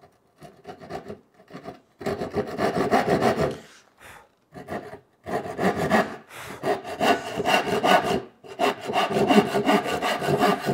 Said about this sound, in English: So now I can take a handsaw and essentially connect the baseline or the scribe line back here to the very, very edge of the board